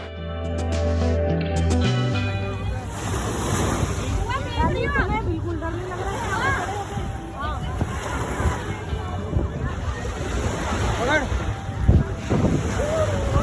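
Waves and wind at Marina Beach in Dubai, with surf washing in and steady wind buffeting the microphone, while people talk nearby throughout.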